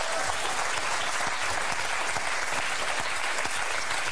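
Studio audience applause on a French TV quiz show, a dense, loud, even burst of many hands clapping at once that holds steady throughout with no talk over it.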